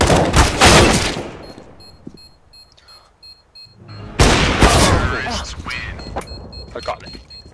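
Rapid bursts of gunfire in the game CS:GO crack out in two loud clusters separated by a quieter stretch with small beeps, while players talk over the action.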